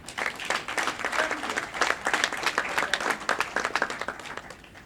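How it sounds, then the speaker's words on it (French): An audience at a retirees' celebration claps for itself in a steady, dense burst of applause with sharp individual claps standing out, fairly close and lively, no voices on top. "je vous demande de vous applaudir vous-même"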